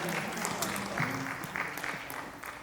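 Audience applause at a group dance competition in Tokyo, Japan, welcoming the event's organiser: a dense, steady wash of clapping that holds at an even level through the whole moment.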